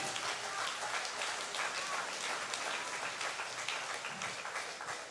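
A church congregation claps in worship, a continuous, moderately quiet wash of applause with some voices faintly beneath it.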